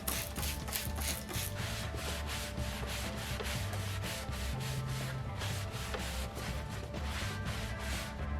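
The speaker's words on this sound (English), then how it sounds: "To clean off our table, I'm going to be using our non-toxic wood cleaner." Wiping down a wooden table with non-toxic wood cleaner makes rhythmic back-and-forth rubbing strokes, close and steady, repeating about twice a second with no voices.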